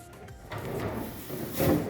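A kitchen drawer in an open-plan kitchen sliding on its runners, a short close rolling slide that ends in a soft bump.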